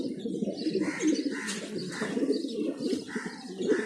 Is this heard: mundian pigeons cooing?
yes